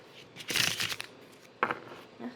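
Tarot cards riffled and shuffled by hand in a couple of quick bursts, crisp papery flutters close up with short pauses between.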